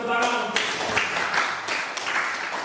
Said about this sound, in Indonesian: Baik, berikan tepuk tangan.